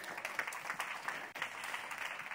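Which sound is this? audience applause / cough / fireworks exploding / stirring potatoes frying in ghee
audience applause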